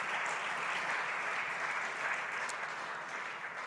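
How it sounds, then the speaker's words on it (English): Steady applause from an audience at an agriculture day event honoring students, continuous even clapping heard somewhat distantly and softly throughout. "Let's give them another round of applause."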